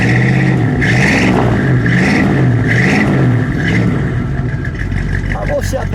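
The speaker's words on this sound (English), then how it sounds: "Give it a rev, please." A 1956 Plymouth Fury's engine revs repeatedly, several rising and falling surges over a rumbling idle, loud and close, then settles back as a voice speaks briefly near the end.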